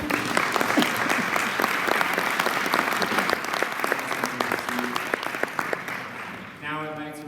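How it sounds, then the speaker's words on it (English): Audience applause fills a hall at a Boy Scout Eagle Court of Honor, steady and dense for about seven seconds before tapering, with a voice starting to speak as it fades. "Now a round of applause for our"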